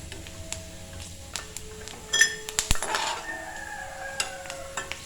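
Golden fried coconut for Malabar kalathappam is scraped from a pan into a vessel, with metal scrapes, light clinks and one sharp knock near the middle.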